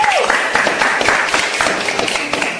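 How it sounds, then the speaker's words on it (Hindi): Applause from an audience at a TV show launch event, dense steady clapping throughout with a brief voice tone at the start. "तालियां।"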